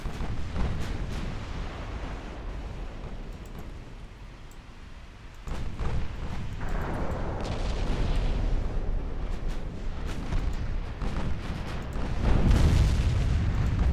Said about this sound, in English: Yeah, there was a large torpedo salvo there. Torpedo detonation, good.